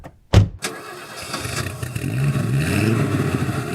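An Audi quattro car engine cranks and catches, a sharp starter burst followed by the engine settling into a steady idle, close up and fairly loud with no talking.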